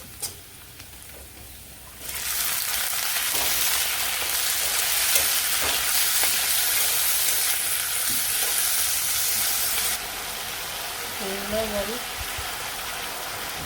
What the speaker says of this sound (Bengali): এখন আলু কেটে রাখছি তো আলু কাটাগুলো দিয়ে দিই